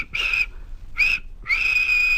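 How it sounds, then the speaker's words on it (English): Three shrill train engine whistle blasts, two short and one long, sound clearly in a quiet setting with short pauses between them. "Thomas in return always whistles"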